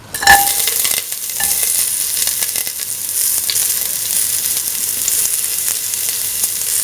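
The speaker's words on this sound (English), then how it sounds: "Putting the onion pieces." Onion pieces hit a hot pan and fry with a bright, steady hiss and sizzle, an initial clatter as they drop in, then continuous close crackling with light stirring.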